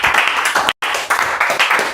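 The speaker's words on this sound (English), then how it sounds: "Please clap, clap, clap, clap." Dense, loud audience clapping fills the room in continuous bursts, cut by a brief silent gap before resuming.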